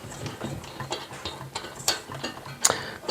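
Screws being driven while mounting an under-desk cable management tray: a string of uneven ratcheting clicks and mechanical ticks, close and moderately loud, with two sharper snaps standing out near the end.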